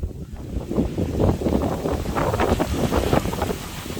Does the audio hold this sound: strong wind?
yes